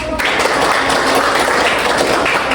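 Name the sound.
audience applause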